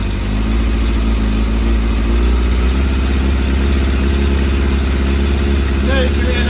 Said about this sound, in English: There you can hear that misfire. Pop, pop.